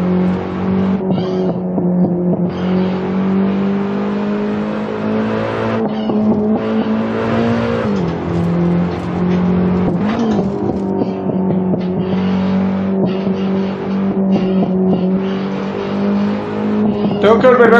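BMW M3 E30 race car lapping the Nürburgring in the Assetto Corsa racing game: a steady, loud engine drone with strong held harmonics that dip and rise through gear changes around the eight- and ten-second marks, continuous throughout.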